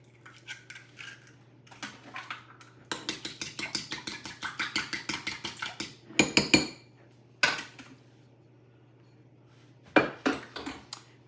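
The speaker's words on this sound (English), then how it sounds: "1 egg that I want to beat just a little bit." A single egg is beaten in a bowl with a utensil: a quick series of bright metallic clinks and taps builds into a steady rhythm, then breaks into a few scattered strokes, close and clear against a faint hum.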